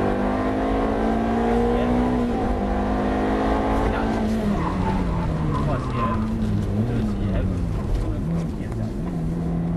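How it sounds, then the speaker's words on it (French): A Ferrari F430 on a track engine revs climbing through the gears with rising, stepping tones, loud and close, with a driver's instructor speaking over the engine noise. "Attends, on va accélérer, débraquage, et on est à fond."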